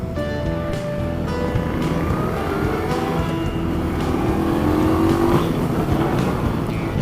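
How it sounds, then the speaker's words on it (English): An Indian motorcycle on stock pipes rumbles at a demo day, its engine loud and close with a steady throb and rising pitch as it revs and pulls away, other traffic noise mixed in. "It's a nice sounding engine, eh?"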